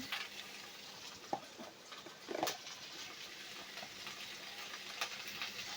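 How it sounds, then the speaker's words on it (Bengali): Cauliflower and potatoes fry in a pan for a vegetarian curry as a spatula stirs them, giving a soft, steady sizzle with a few scraping clinks. The sound stays quiet and close and is heard alone. "দিয়ে নেড়ে চেড়ে কপি আলু ভেজে নেব।"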